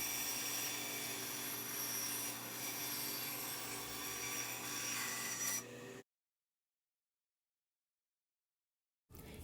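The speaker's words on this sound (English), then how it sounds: "once I cut it on the bandsaw" A bandsaw cuts through walnut wood and brass, a steady loud whining drone with a dense high buzz for about six seconds before stopping abruptly, then resuming briefly near the end.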